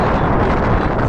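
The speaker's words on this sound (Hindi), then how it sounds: "ये हवा चल रही है, सही तेज़ हवा चल रही है" Strong gusty wind blasting straight into the microphone outdoors under a cloudy sky near a mosque minaret, a loud continuous low rumbling roar that fills the whole moment with no speech.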